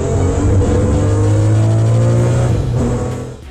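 BMW X5 E53 Le Mans engine revving loudly and steadily up close, a deep sustained roar that holds for about three seconds before easing off slightly near the end.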